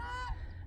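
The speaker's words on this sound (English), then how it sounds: "The geese are awake." A goose gives a single harsh, drawn-out honk, fairly close, over a low background hum.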